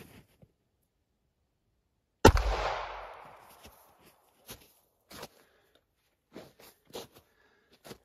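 A single sharp pistol shot fired with Remington Golden Saber 102-grain compact ammunition cracks loudly and decays over about a second, followed by faint scattered footsteps and small handling sounds.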